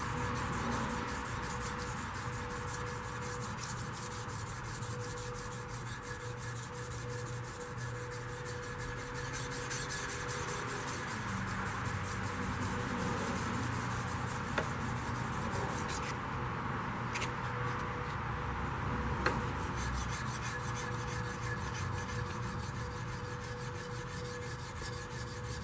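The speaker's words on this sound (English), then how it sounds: "got some sanding to do to get the 200 or 220 grit out of it" Steady hand sanding of a knife blade, a continuous scratchy back-and-forth rasping on metal with a few sharper ticks, close by and alone.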